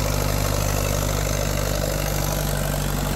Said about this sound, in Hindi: देख सकते हैं आप कंटिन्यूस लोड चल रहा है, कोई धुआं नहीं है, बिल्कुल साफ इंजन चल रहा है, कोई वाइब्रेशन नहीं है।